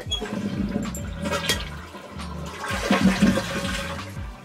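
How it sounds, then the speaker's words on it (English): A toilet flushing close by during a repair, a loud, continuous gush and swirl of water draining from the bowl with gurgling surges. "after you flush it, you can see that there's still water in the tank"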